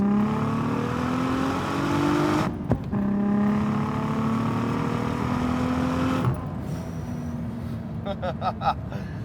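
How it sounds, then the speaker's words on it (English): A 700-horsepower widebody Audi TT with a turbocharged VR6 engine revs hard through rising gear pulls, a loud droning engine note climbing in pitch with brief shift breaks, then easing off with turbo whooshes and crackles. "The sound of a turbo VR6 is something that will never get old."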